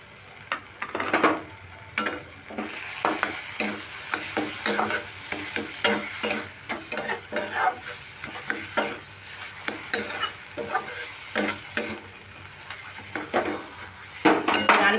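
A spatula scrapes and knocks rhythmically against a pan as grated coconut is stirred into frying spice paste for a pointed gourd dish, with soft sizzling and clinks throughout.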